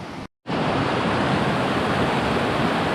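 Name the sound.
rushing brook running higher than usual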